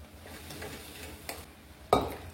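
A spoon stirs turmeric and Kashmiri red chilli powder masala in a pan for Punjabi-style chole, with a couple of soft scrapes over a faint sizzle.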